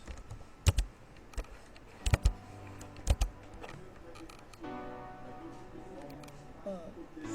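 Typing on a computer keyboard while writing HTML text-formatting code, with a few sharp key clicks and clusters of taps, then softer continuous clatter under faint background noise.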